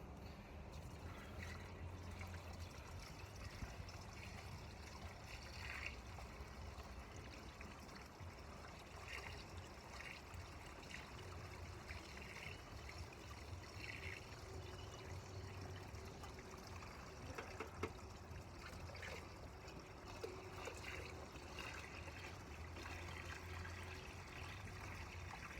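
Water steadily pours and trickles through a funnel into a 2004 Ford F-450 radiator, a continuous low splashing flow that runs the whole time without talk.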